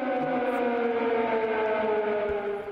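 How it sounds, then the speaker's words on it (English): An air raid siren sounds during the war in Kyiv, Ukraine, a loud, steady wail with stacked harmonic tones holding continuously without pause. "Air raid sirens would go off."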